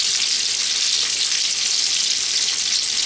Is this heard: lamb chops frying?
yes